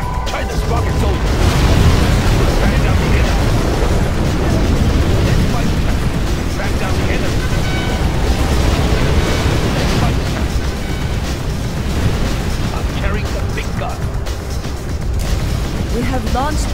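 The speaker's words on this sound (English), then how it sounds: "We have launched our nuclear missile" A Chinese nuclear missile launches in Command and Conquer: Generals Zero Hour, with an apocalyptic mod, as a dense, loud wall of rumbling booms and blasts that holds steady throughout, while a voice speaks over it.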